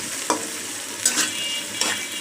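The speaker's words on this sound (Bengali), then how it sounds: "পেঁয়াজটা যখন একটু ভাজা হয়ে এসেছে তার মধ্যে গরম মশলা দিয়েছি" Steady oil sizzle of onions frying with cardamom and bay leaf in a pan for chicken bhuna, broken by three quick scraping stirs. No voices.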